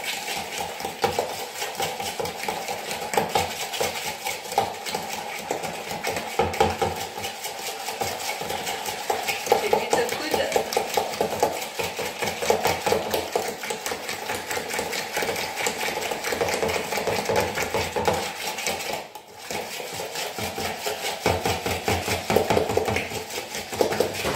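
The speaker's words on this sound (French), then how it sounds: "on va mélanger nos œufs et notre sucre" Egg yolks and sugar are beaten together in a bowl for a homemade tropézienne, a fast steady whirring and rattling of whisking that runs continuously and close, with no talking.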